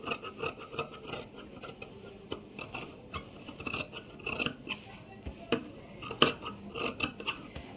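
Tailoring scissors snipping through fabric with a quarter-inch seam allowance left, a steady run of crisp close blade snips and rustling cloth with irregular rhythm, no talking.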